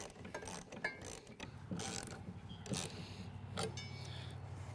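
Nut being tightened on a Lucky Duck Ice-X floating ice eater bracket during assembly, heard as a run of close, quick ratcheting clicks and metallic turning noises repeating in short bursts.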